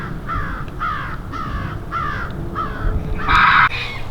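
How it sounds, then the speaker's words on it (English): Crows give about seven harsh caws in a steady rhythm outdoors in the wilderness, moderately close, with the final call the loudest, and nothing else stands out. "So the crows are worked up."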